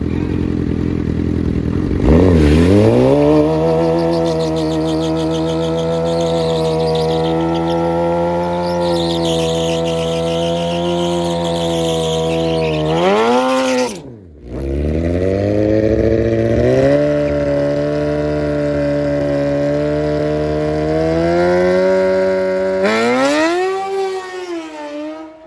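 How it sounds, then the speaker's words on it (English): Suzuki GSX-R 750 nitrous race motorcycle roaring at high revs through a drag run, engine pitch climbing steadily with one brief cut at the shift before surging again, loud and close throughout. "Time for a shakedown on the big bike. That's a GSXR 750,"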